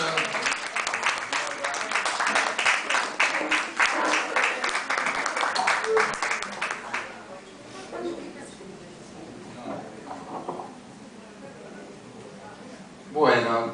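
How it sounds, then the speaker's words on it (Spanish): An audience at a literary and arts café gathering claps for two guests in warm, sustained applause that fills the first half, then fades out as a voice speaks over the quieter room. "Aplauso para ellos."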